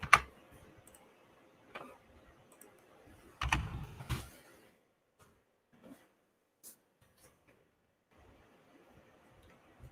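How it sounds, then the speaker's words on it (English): Several sharp, faint clicks of a computer mouse scattered across a quiet stretch, with a brief louder rustle of handling near the middle and otherwise near silence. "oh, I'm accidentally clicking the wrong things here."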